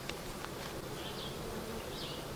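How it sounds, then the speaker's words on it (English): Honey bees hum steadily in a hive fitted with double screen boards, a low continuous drone with a few faint higher whines drifting over it, close and unbroken throughout. "The bees are acting pretty normal. They're working, they're progressing."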